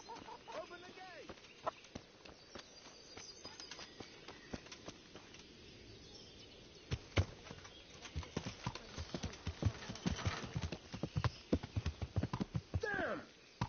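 Horse hooves clip-clop steadily in a medieval video game, a rhythmic trotting patter that grows louder toward the end, with voices talking over it and a brief whinny.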